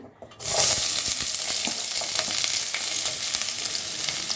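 Shallots frying in hot oil in a pan, a loud, close, continuous sizzle with crackling pops that starts abruptly and holds steady throughout, with no talking.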